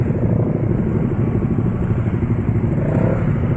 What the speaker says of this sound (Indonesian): main tarik gas atau main geber gas